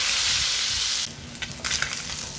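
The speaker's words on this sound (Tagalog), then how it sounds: "Medyo tinustado ko ng bahagya yung ating tuna meat" Tuna meat lightly toasting and reheating in a pan sizzles loudly and steadily for about a second, then drops to a quieter, crackling fry with scattered pops.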